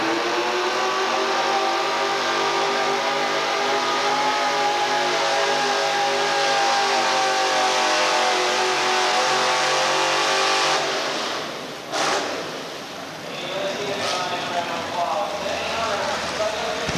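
An American-made modified race car engine drones steadily on a dirt track in Murray, Kentucky, in 1987, a sustained loud roar that dips briefly near the end before picking back up, with an announcer talking over it.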